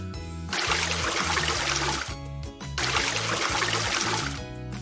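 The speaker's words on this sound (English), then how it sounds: "It's the sound of water running from a tap." Water runs from a tap in two long, steady gushing bursts separated by a short break, loud and close, with background music underneath.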